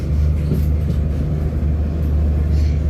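Tejas Express running through the 7-kilometre Karbude tunnel, heard from inside a coach as a loud, steady low rumble and roar with constant rail noise and no break.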